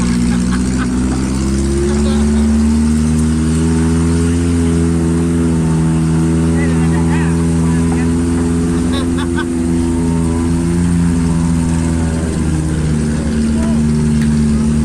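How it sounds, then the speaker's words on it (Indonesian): A tourist car climbing toward Puncak Lawang hums with a loud, steady engine drone heard from inside, its pitch shifting slightly as it drives, with people talking over it. "sekarang kita sudah berada di atas mobil yang sudah disediakan oleh pihak wisata untuk menuju ke atas lokasi Puncak Lawang"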